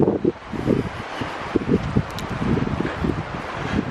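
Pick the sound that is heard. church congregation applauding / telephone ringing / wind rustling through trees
wind rustling through trees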